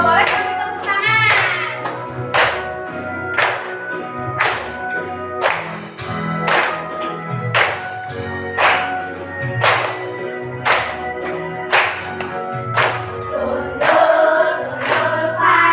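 A class of schoolchildren claps hands in a steady, loud rhythm, sharp claps spaced about every half-second to accompany a Central Javanese regional song, with faint voices singing along beneath.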